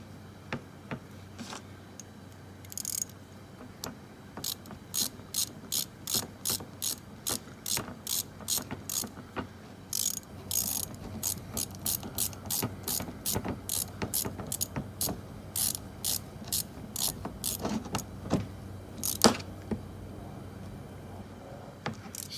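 A hand ratchet snugs a bolt on a new power steering pump in a 2010 Honda Pilot, clicking in quick repeated bursts of sharp ticks with short pauses between strokes, close and clear with only faint background.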